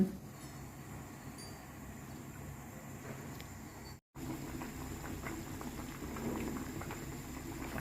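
Thai chicken curry (gaeng om gai) simmers in a large pot with a low, steady bubbling and soft popping, close and quiet, continuing evenly with a brief dropout partway through.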